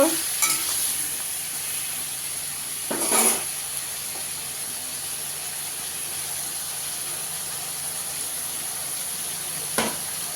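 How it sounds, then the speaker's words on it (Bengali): Ridge gourd stir-fried with spice masala in a pan for a Katla fish curry with potato, giving a steady sizzle and hiss with a few louder scraping stirs near the start and end. "মশলাটা দিয়ে একটু নেড়ে নেব। এবার ভালো করে একটু কষিয়ে নেব।"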